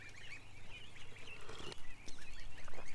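Geese gathered nearby honking and calling in repeated overlapping bursts, close to moderately near, with outdoor background hum and no talk.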